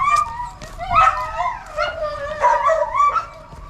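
A dog barks and yips repeatedly in short, excited bursts with whimpering tones, close and loud throughout.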